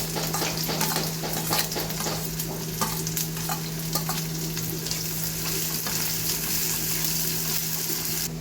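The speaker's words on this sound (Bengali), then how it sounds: "এবার আমি পেঁয়াজ কুচি দিয়ে দেবো।" Chopped onion with black cumin frying in hot mustard oil, a steady close sizzle with stirring scrapes in the pan, continuous and even throughout.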